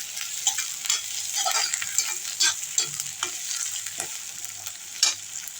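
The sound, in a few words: anchovies frying with garlic and curry leaves, being stirred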